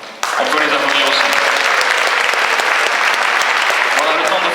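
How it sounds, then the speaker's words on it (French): Loud, dense applause from a concert audience for the trombone section of an amateur wind orchestra, starting abruptly and continuing as a steady roar of many hands with a few sharper claps standing out. "le pupitre de trombone, voilà, on peut les applaudir aussi"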